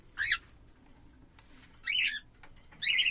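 A small rainbow budgerigar chirps in three short, bright bursts separated by pauses, fairly close in a quiet room.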